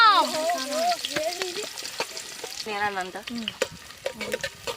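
Onions sizzle as they fry in a pan, a steady hiss with spoon scrapes and clicks, heard under a woman's prominent, melodic speaking voice throughout.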